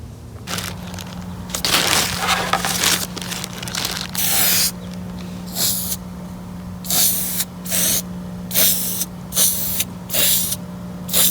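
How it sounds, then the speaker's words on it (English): Short bursts of aerosol spray paint hiss on and off in uneven pulses, some long and some brief, over a faint steady hum, as black paint is sprayed onto an Audi B9 S5 Sportback headlight piece. "now I'm going to paint this black piece right here with this spray paint"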